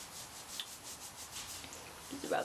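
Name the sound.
hands rubbing product into scalp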